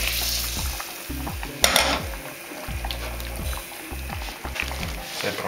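Cabbage stew with potatoes being stirred in a pot, a close, rhythmic scraping and wet bubbling sizzle with repeated strokes, one sharper clatter in the middle.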